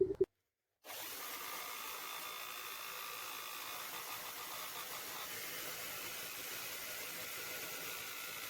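A power tool cuts a design into a 2x4 wooden mold. A brief silence gives way to a steady, continuous mechanical whirring that runs evenly to the end.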